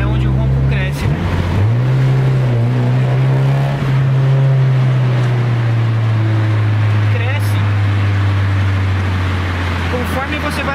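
Car fitted with a Race Chrome RCI Go Power 5-inch sport exhaust muffler revving, a deep steady engine drone that rises in pitch and holds, loud and close, while someone talks over it.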